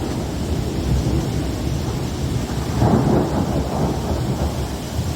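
Thunder rumbles low and heavy through a severe Michigan thunderstorm, a sustained roll that swells midway through over a steady wash of rain, with no voices.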